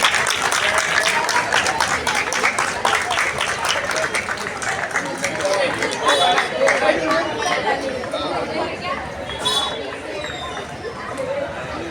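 Crowd applause and chatter at a cricket premier league event, with continuous clapping blended into busy hubbub and talk from start to finish, steady and fairly loud.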